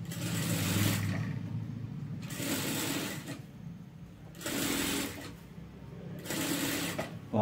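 Sewing machine stitching double piping in red fabric onto a blouse, running in four steady bursts of rapid whirring with short pauses between, close and moderately loud.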